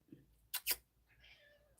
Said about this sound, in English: Kitty cat might want to come up here, so we gotta let her up.